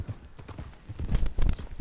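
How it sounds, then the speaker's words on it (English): Horse hooves clip-clop on the ground in the Red Dead Redemption 2 video game, a run of uneven thuds that grows louder and heavier toward the end, with no talking. "Just grab a random horse and be like, come on horse,"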